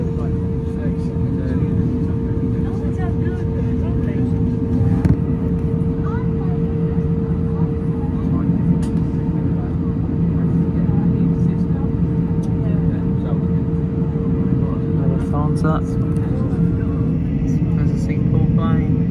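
Constant loud roar and steady drone of airliner engines at an airport terminal, with a Singapore-bound plane in Lufthansa livery nearby; a continuous rumble with a fixed whine runs unbroken, scattered clicks and faint voices underneath.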